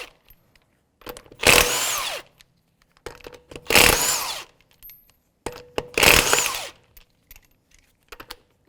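Impact wrench with a 19mm socket spinning wheel lug nuts off a 2005-2009 Subaru Outback, three loud close bursts each about a second long, separated by short pauses.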